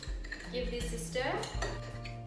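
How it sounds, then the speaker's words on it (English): Spoon stirring a Negroni of Campari and Cinzano in a glass, with clinking and scraping of metal against glass over roughly two seconds, fairly close and steady, no voices. "Give this a stir."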